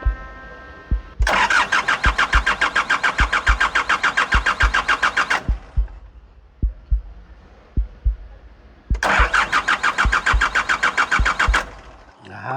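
A Nissan Urvan van engine cranks in two long bursts of rapid, rhythmic starter churning, separated by a pause with a few isolated clicks. It stays close and loud without clearly catching and running.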